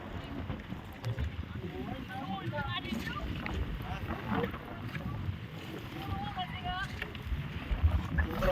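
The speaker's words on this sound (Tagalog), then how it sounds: "lakas ng hangin" Strong wind buffets the microphone out on open water near a boat where fish are being hauled in, a steady rumbling roar throughout with people talking faintly underneath.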